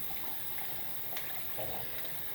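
Tap water rinsing tarnished silver after polishing with Twinkle silver polish, a steady quiet splashing flow with small bursts of spatter as the metal is moved under the stream.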